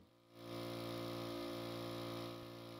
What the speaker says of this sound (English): So here is the engine in question, the one cylinder engine, which sounds pretty good.